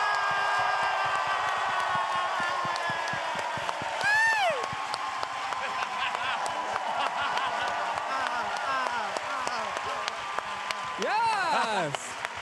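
A live audience cheers, whoops and claps for Jada's win at a RuPaul's Drag Race All Stars conversation event, a loud dense crowd roar held throughout with sharp shrieks rising above it.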